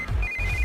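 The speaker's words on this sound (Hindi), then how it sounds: "इस वक्त दीदी का फोन।" A telephone rings in a Hindi-dubbed action film: a brief, clear electronic ringtone that holds a steady pitch over low background music.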